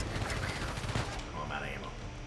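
Video game gunfire in Uncharted 4, with rapid bursts of shots layered over continuous game noise and background sound, dense and busy throughout the short stretch.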